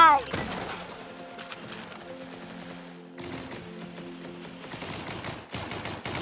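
Video game gunfire in a shotgun-only battle royale match, rapid clustered shots and mechanical clicks over a soft background tone, with someone talking between bursts.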